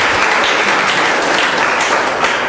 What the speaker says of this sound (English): I think let's a round of applause for Carmen